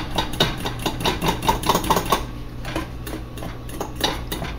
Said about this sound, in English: So you just want to do a round stir, and it'll start incorporating the food coloring into the cake batter